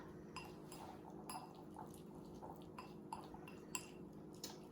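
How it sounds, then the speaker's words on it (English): A whisk beats a sauce in a bowl, giving quiet, repeated metallic clinks and scrapes in an uneven rhythm over a low background hum. "whisk that all up"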